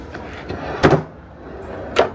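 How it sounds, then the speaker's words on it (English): Small drawers in a balcony stateroom cabin aboard a cruise ship, sliding open and shut with two distinct close wooden knocks about a second apart over quiet room tone. "So we have drawers down here."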